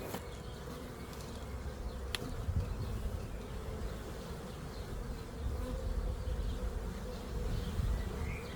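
A dense swarm of honey bees buzzes continuously during a comb transfer from one hive into a slightly larger one, a steady close hum that swells and fades in volume, with a few brief knocks underneath.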